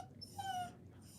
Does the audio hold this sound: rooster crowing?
no